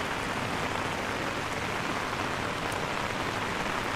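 Heavy rain falls near Silver Waterfall in Sapa, a soft, steady hiss of drops on surfaces that continues evenly throughout, with nobody speaking.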